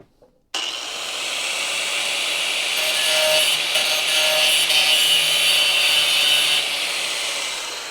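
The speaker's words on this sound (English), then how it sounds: "Shouldn't use the back side of the cutting wheel to do that." A cutting wheel grinds along the flanges of a frame rail on a Dodge Charger crew cab under restoration, a loud, steady abrasive roar starting abruptly and holding for about seven seconds without speech.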